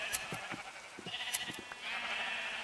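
Sheep bleat in the blocky video game Minecraft, several wavering calls from a crowded flock overlapping with small clicks, fairly quiet and without speech.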